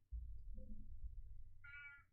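A cat gives a single short, bright meow near the end, preceded by low rumbling background noise in a quiet setting.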